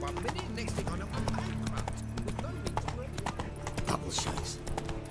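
Roach, a horse in The Witcher 3 video game, clip-clops at a steady gallop close up. The hooves run throughout under game music, and a faint whinny comes through.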